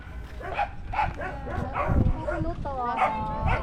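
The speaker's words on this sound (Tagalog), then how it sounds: "Ang dami ng aso." Several dogs bark and yip in repeated close bursts, some whining, while people talk over them.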